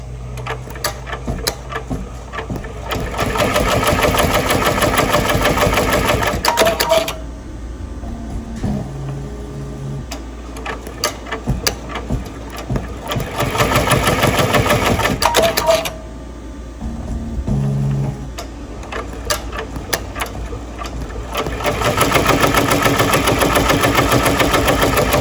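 Industrial embroidery-style sewing machine stitching a chenille patch, a rapid mechanical needle chatter running in long loud bursts with brief slower pauses and clicks between stitching runs.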